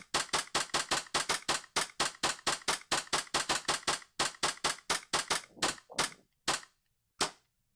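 An airsoft pistol empties a full magazine, about thirty sharp snapping shots fired in a fast, steady string that slows and spaces out toward the end before stopping, close and loud with no talk.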